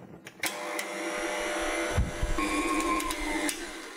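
An electric hand mixer whirs steadily through pineapple upside-down cake batter with sour cream just added, a continuous near motor drone with a brief dip midway before it picks up again, no talk.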